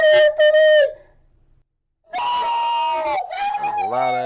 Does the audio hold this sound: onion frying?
no